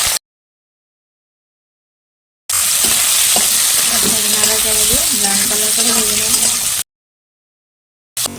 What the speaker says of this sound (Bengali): কড়াতে তেল দিয়ে রাখলাম এক পাতা এলাচ দারচিনি একটা গোটা দিয়ে দেবো পেঁয়াজ কুচি দিয়ে দেবো